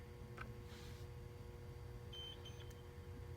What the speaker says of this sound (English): you should hear 2 series of beeps